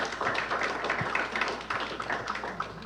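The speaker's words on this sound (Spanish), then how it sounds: "Vamos a darle un fuerte aplauso." A book launch audience gives a speaker a round of scattered, moderate clapping that continues steadily throughout, heard at some distance in a hall.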